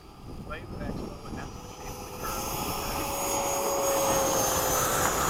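A small fixed-wing aircraft engine at Bayside throttles up for a formation takeoff roll, its droning tone rising and swelling louder after a couple of seconds into a sustained roar, with faint voices in the cockpit early on.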